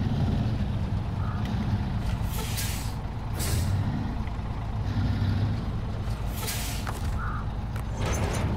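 A truck in Snowrunner backing up to hook a trailer, with a steady engine rumble throughout and several sharp air-brake hisses spaced across it. No voices are heard.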